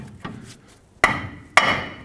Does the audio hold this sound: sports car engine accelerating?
no